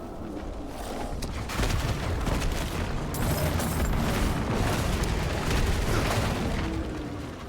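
Dense, continuous explosions and bursts rumble in the Diablo IV video game, a loud wall of overlapping booms and crackling blasts that swells and holds for several seconds without speech.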